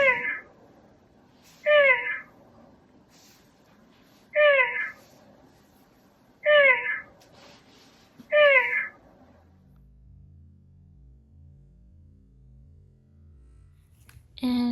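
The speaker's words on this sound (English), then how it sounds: "when the battery needs to be charged, then the cat sighs" A Chongker MateCat Pro robot cat toy with a low battery gives five evenly spaced, close, clear meow-like sighs, followed by a soft low rumble.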